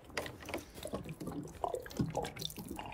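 Running water splashes and gurgles steadily out of the end of a pipe, a close, continuous flow with small irregular spatters, no voices present.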